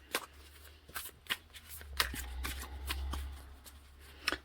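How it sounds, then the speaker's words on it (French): Oracle cards being shuffled by hand in quick, irregular riffles and soft slaps, close and fairly quiet over a low steady hum, with no talking. "On va mélanger les cartes."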